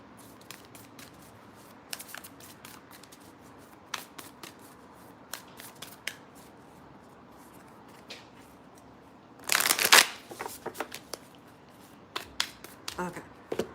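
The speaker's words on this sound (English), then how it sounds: "then mix these cards up just for a moment" Tarot and oracle cards being shuffled by hand at close range: a string of soft, crisp riffling flicks, then a brief loud burst of rapid card-riffling in the middle, followed by more scattered taps and flicks.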